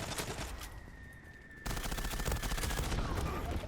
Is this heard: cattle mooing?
no